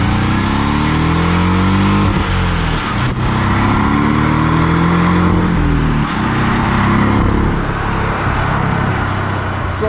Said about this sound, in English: the engine noise, which is pretty uninspiring